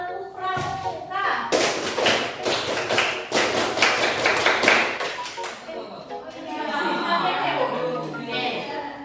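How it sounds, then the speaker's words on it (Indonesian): A classroom of students does the rhythmic Scout clap in unison, with loud sharp claps in quick patterned bursts and a final flourish. Voices chant and laugh around the claps. "Coba deh ibu lihat kalian tepuk pramuka dulu."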